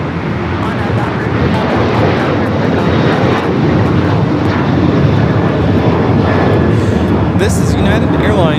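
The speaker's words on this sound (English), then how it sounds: "This is United Airlines 277 taking off to Houston Intercontinental on the 737-900ER." A United Airlines Boeing 737-900ER roars loudly and steadily on its takeoff roll from runway 25 Right at LAX, a dense broadband engine rumble sustained throughout with a brief higher whine near the end.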